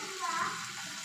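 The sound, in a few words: prawns frying in hot oil with curry leaves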